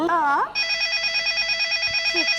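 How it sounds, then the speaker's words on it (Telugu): A telephone rings with a steady electronic warble, close and loud, for about two seconds, with a short spoken voice just before and a brief one as it ends. "ఈ కొమ్మగాడు ఫోన్ చేసాడు ఈ టైంలో."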